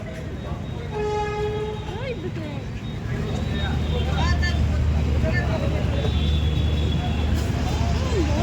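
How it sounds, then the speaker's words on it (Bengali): A train horn sounds near the start, then a train passes at Beldanga in a crowded, traffic-jammed street, with a steady rumble that builds and holds; a crowd chatters throughout. "এখন ট্রেন যাচ্ছে"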